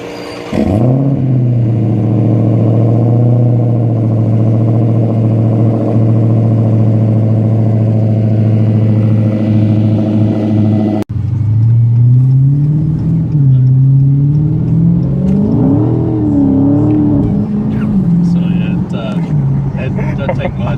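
Supercharged 6.2-liter Hemi V8 in a 707-horsepower Dodge Challenger Hellcat, a loud steady idle drone that abruptly jumps into hard, rising and falling revs, close and dominant throughout.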